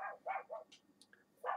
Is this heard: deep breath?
no